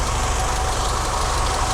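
A Mercedes-Benz W123 230E engine idles after a fuel distributor repair, a steady low rumble with a faint regular pulse, close and unbroken, with no talk.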